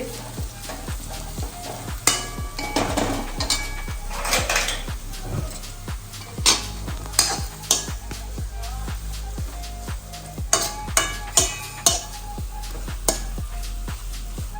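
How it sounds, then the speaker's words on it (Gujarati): Fresh green turmeric roasting in hot oil in a pan for a Gujarati winter sabzi, a steady close sizzle with repeated sharp scrapes and clinks of a spoon stirring throughout. "આપણે તેલમાં પહેલાં લીલી હળદર શેકી દઈશું મસ્ત રીતે"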